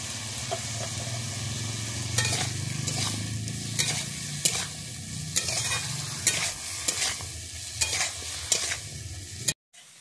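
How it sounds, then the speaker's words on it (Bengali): Eggplant fries in a pan seasoned with salt and turmeric, a steady close sizzle broken by repeated scraping strokes of a spatula stirring, ending in a sudden cutoff. "আমার বেগুনটা ভাজা হয়ে গেছে।"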